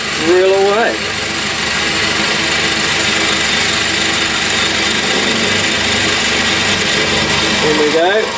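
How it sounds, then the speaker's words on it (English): A drill press bores into a workpiece with a 32mm spade bit, giving a loud, steady machine whir that runs almost the full length with a rising-pitched spin-up at the start and again near the end. "I've got a 32mm spade bit in there. So, let's drill away."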